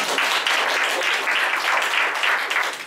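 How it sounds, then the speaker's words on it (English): An audience at a stop-smoking class applauds itself, producing a dense, steady wash of many hands clapping at once. It stays loud and even throughout, with no pauses. "can you please give a big clap to yourself?"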